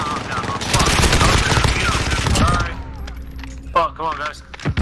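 Rapid assault rifle fire crackles in a Call of Duty: Modern Warfare (2019) hardcore gunfight match, loud bursts through the first half, then sparser shots under excited players talking over each other.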